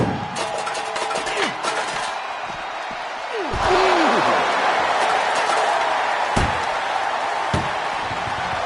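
An ambulance door slams shut in the WWE 2K24 wrestling game, a sharp heavy impact over a loud arena crowd and game commentary, with further thuds and clanks following.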